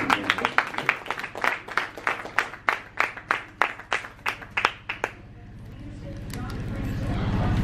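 An audience at an election eve thank-you speech in Markham claps in a steady, rhythmic run of sharp, loud claps for about five seconds, then fades into room murmur.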